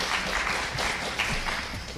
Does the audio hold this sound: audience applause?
yes